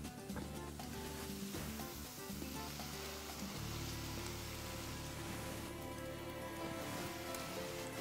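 Chicken pieces go into a pot of onions fried until golden, with a steady, close, loud sizzle and crackle of hot oil throughout and no talking.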